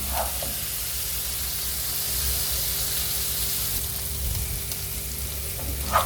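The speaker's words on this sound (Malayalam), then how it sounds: "അപ്പോൾ നമ്മുടെ ഇഞ്ചി, വെളുത്തുള്ളി, പച്ചമുളക് നല്ലപോലെ മൂത്ത് വന്നിട്ടുണ്ട്." Ginger, garlic and green chili frying in hot oil for beef pickle, a steady close sizzle with faint stirring clicks, continuous and fairly loud throughout.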